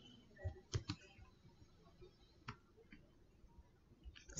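Soft keystrokes on a computer keyboard, a few scattered quiet clicks at irregular intervals over a faint background hush, no talk.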